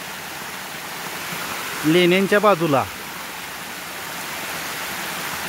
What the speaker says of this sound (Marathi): हे छोटे छोटे धबधबे चालू झालेले आहेत।